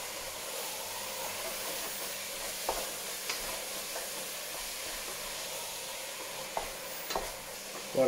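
Ground meat sizzles and fries in a pan for bolognese sauce, a steady close hiss with occasional scraping stirs and louder spits.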